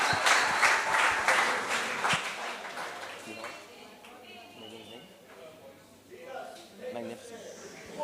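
A crowd at a church retreat claps loudly for a couple of seconds, then the applause fades as a voice begins talking.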